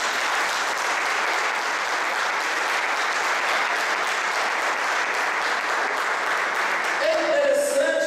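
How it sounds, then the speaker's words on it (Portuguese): A Methodist church congregation applauds, loud sustained clapping from many hands that fills the whole stretch, with a voice rising briefly near the end. "Você pode aplaudir Jesus por isso?"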